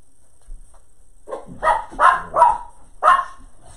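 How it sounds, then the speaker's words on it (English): Dogs bark indoors, four or five sharp, close barks in a quick burst after a short quiet start. "my dogs are going crazy"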